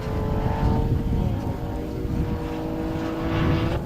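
Renault Twingo Cup race cars at BalatonPark run flat out down the back straight, a steady loud engine drone with whining harmonics that holds for the whole stretch, no voices.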